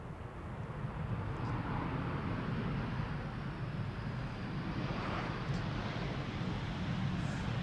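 A lightly loaded C-17 Globemaster military jet climbs steeply out of Schiphol, its broad engine roar distant and constant, with faint wind noise mixed in.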